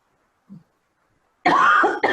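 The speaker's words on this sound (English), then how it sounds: "I cough because I have allergies" One harsh, loud cough from a person with allergies during a business webinar, followed by a short second burst, after near silence with a faint brief sound.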